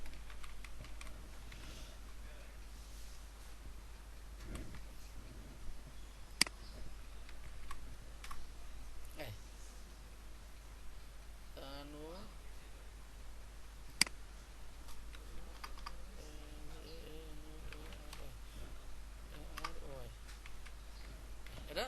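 A computer keyboard is tapped during calendar design work in Adobe Illustrator CC. Sparse, close key clicks and ticks come at irregular intervals, with someone speaking quietly at times over a steady low hum.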